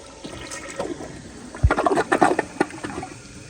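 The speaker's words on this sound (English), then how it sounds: "here is a flush." A 2016 Kohler Highline Class 5 toilet gives one short push-and-release flush: a sudden rush of water surges up loud and close, then quickly gurgles and tapers off into quiet.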